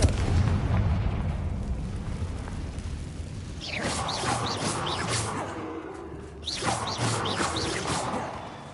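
Two fiery Confringo spell explosions from the Hogwarts Legacy video game erupt a few seconds apart, each a crackling, booming burst over a rumbling background, with no talking.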